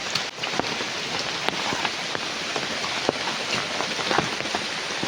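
Steady, dense rain pours down on a surface, with scattered sharper drops standing out from the constant wash of noise.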